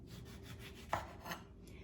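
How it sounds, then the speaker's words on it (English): A knife slices through oranges in a quiet kitchen, with a soft rubbing drag and two faint, brief cutting clicks close by. "Now that we're waiting for the vinegar to heat up thoroughly, I'm gonna cut some orange slices."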